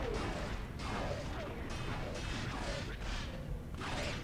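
Mark 3 ship guns fire in a Star Wars Galaxies space battle, letting off a repeating series of rasping energy blasts, about one every half-second, over a constant loud engine roar.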